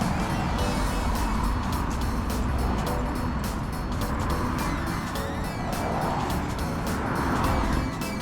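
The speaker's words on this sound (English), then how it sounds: "As there's lots of cars driving, I don't want to get run over." Cars stream past on a busy Australian road, their engine and tire noise swelling and fading in waves, fairly loud and continuous, with no talk over it.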